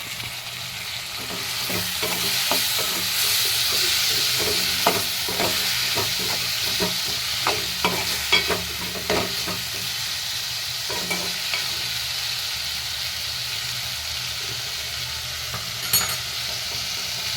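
Medium tomatoes frying in a pan with a steady sizzle and scattered clicks of stirring, loud and close throughout, as part of a brinjal and egg fry.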